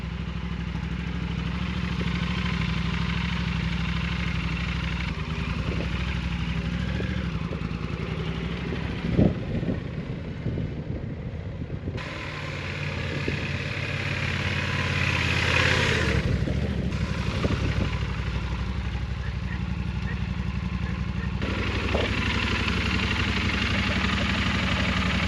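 An overloaded Yamaha Super Tenere motorcycle idles in a steady, low, even engine rumble that runs for the whole stretch, with faint clatter and no talking.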